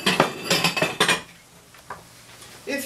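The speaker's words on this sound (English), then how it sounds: "I'm going to take these mushrooms out and set them in a small prep bowl." Mushrooms scooped out and set into a small prep bowl: a quick run of clinks and knocks of a utensil against the dish, then a pause with a few lighter taps.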